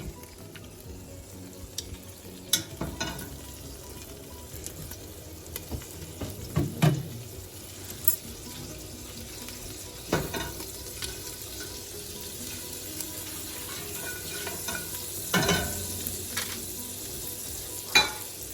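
Onions, celery and vegetables fry over high heat in olive oil with a little butter, a quiet steady sizzle punctuated by occasional spoon scrapes and knocks.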